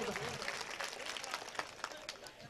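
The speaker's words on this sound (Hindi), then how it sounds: "अरे एक बार जोरदार तालियां बजाइए" Audience at an all-India mushaira in Jamtara, Jharkhand claps in a steady, fairly faint ripple of applause, with sharper claps standing out and voices mixed in.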